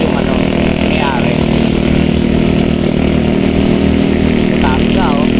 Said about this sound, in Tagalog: Si Kapanali, motor niya na yung gamit niya